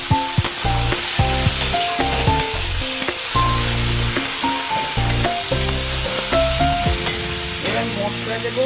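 Mutton liver and already-browned potatoes sizzle loudly and steadily in a pan, with repeated stirring and scraping clatter on top of the continuous frying hiss.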